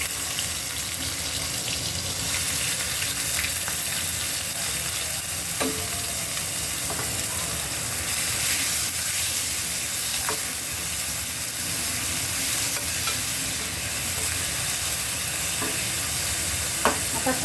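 Chopped onions frying in hot oil for a spicy tomato chutney make a loud, continuous sizzle close by, broken by occasional scrapes and clinks of a spoon stirring the pan, with no voices.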